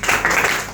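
Brief burst of audience clapping at a Sunday motivational business meeting, many hands at once, loud and close, lasting under a second.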